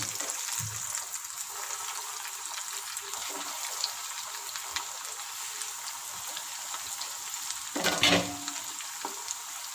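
Fish cutlets frying in hot oil, giving a steady, fairly quiet sizzle with a crackly hiss throughout and one brief louder burst near the end.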